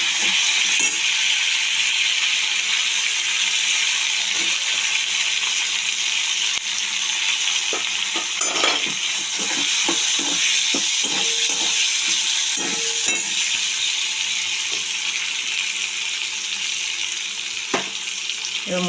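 Tomatoes and potatoes go into a pan with cardamom, cinnamon and cloves, giving a steady close sizzle and hiss of frying, with occasional scraping or stirring clicks scattered throughout.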